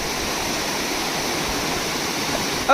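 A waterfall near the Manudevi temple in Jalgaon pours with a constant, dense rushing hiss at steady loudness throughout, with no voices.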